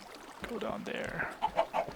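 Minecraft chickens cluck in short, pitched bursts within a video game, with a run of three quick, fairly loud clucks near the end following softer, warbling chicken noises earlier on.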